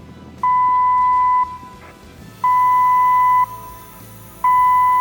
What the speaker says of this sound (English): It will sound if there is a gas leak or fire in the process area.